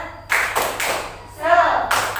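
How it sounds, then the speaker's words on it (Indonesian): A classroom doing a rhythmic Indonesian spirit clap, with short bursts of group hand claps in a patterned beat between voices chanting along. "mari kita lakukan tepuk semangat."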